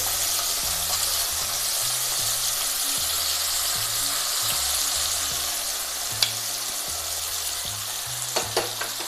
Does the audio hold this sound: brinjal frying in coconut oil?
yes